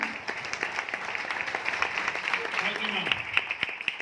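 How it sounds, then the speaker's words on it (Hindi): Audience clapping for a speaker at a Hindi-language gathering in Hansi, Haryana; fairly faint, continuous applause with scattered sharp claps and some crowd voices mixed in. "जय सर को मैं इनवाइट करती हूँ, भगवान सर के लिए जोरदार ताली।"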